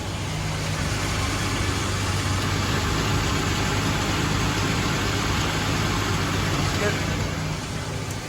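The engine of a 1997 Ford Explorer idles smoothly after an oil change, a steady, even hum with no variation in speed.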